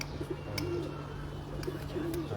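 Pigeons cooing on a rooftop in Lahore, soft repeated low coos over a faint background hum, with no talking.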